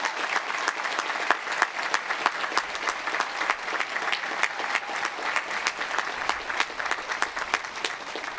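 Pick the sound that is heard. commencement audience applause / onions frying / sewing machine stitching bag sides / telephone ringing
commencement audience applause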